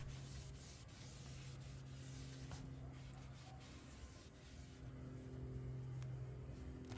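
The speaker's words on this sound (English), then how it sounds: "Following that up with a rag or a towel to wipe the surface." A rag or towel wipes the surface of a new brake rotor for a Pontiac G5 or Chevy Cobalt, making a steady, soft, continuous rubbing close by. Faint, with no voices.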